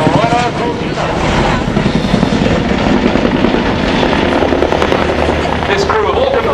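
An RAF Chinook helicopter roars through a flying display at an air show, its heavy, thudding rotor noise loud and continuous, with a commentator speaking over it.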